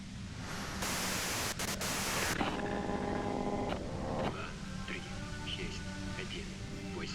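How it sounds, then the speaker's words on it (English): White noise static from the video game Disco Elysium hisses in a dense, steady wash, switching abruptly in texture partway through, with faint tonal sounds and voices underneath. "If you've got something really important to say, you can do it through the white noise."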